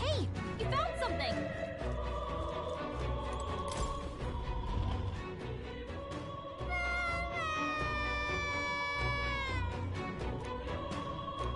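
A cat meows in the video game Metaphor, drawn-out mewing calls layered over a game music score and sound effects. A rising, wavering cry stands out near the end, and there is no talk.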